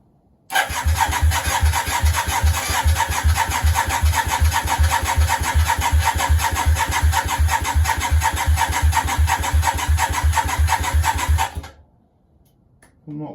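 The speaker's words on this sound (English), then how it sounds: "Don't want to cook the starter motor. She sounds like she wants to go." A Yamaha Virago 535 motorcycle engine cranks and fires up, running with a steady, loud, pulsing idle for about eleven seconds before cutting out abruptly.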